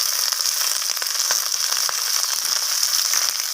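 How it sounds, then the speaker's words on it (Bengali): Cauliflower stems and radish fry with onion in a hot pan, giving a steady close sizzle sprinkled with sharp little crackles and pops, with no voices. "ফুলকপি ডাঁটি আর মূলোটাকে আমি পেঁয়াজের সাথে এইভাবে নাড়াচাড়া করে একটু ভাজা ভাজা করে নিচ্ছি।"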